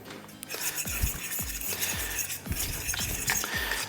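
Seasoned flour made with salt, pepper, garlic powder and paprika is whisked in a bowl, a wire whisk giving quick, close repeated clinks and taps against the sides of the bowl, loud and steady with no talking.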